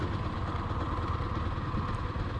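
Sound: KTM Duke 250 motorcycle engine at low speed in sixth gear

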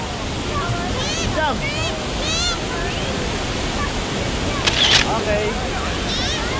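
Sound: Shihfen Waterfall in Taiwan

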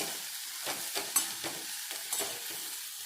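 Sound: stirring brinjal curry (vegetable) in a pan

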